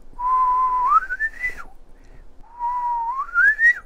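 A person whistles two rising phrases imitating a crested myna's song, each holding a steady note then sliding upward, clear and close with a short gap between.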